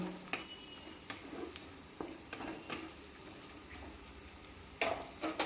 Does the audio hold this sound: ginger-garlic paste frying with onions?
yes